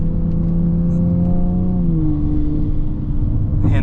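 A modified fifth-generation Toyota Supra with an automatic gearbox revs and accelerates up close. The engine note climbs smoothly and then settles into a steady, loud whirring rumble.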